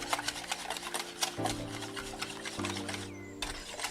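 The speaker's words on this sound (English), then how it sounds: "Give it a whisk." A whisk scrapes and rubs quickly around a bowl in steady, close strokes, quiet and continuous through the moment, with no talking.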